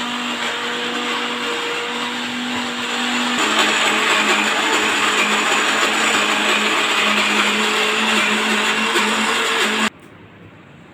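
A mixer grinder grinding soaked black-eyed peas whirs loudly and steadily for about ten seconds, its pitch shifting slightly partway through, then cuts off abruptly.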